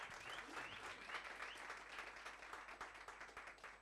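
An audience at a live chat event breaks into sustained applause, a dense wash of many hands clapping for several seconds at moderate distance.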